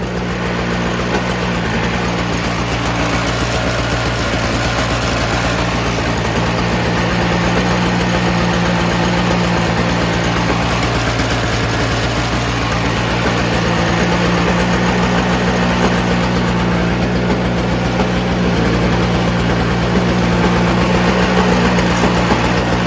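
A Toro CCR2000 snowblower engine runs steadily at idle, a loud, even mechanical drone with a constant low hum that holds unchanged throughout, with no voices.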